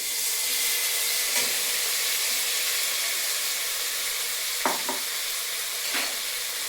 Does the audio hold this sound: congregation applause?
no